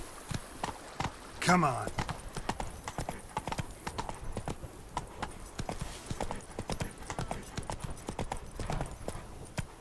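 Horse hooves clip-clop steadily in The Witcher 3: Blood and Wine, a dense rhythmic patter of footfalls throughout, with a brief whinny early on while someone talks over it.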